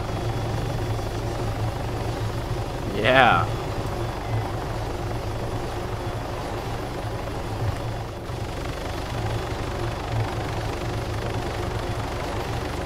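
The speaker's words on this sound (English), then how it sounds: "Get to the chopper." Helicopter in the military game Arma 3, a constant loud rotor and turbine drone heard from inside the aircraft, steady throughout with a brief rising whine and a short spoken word.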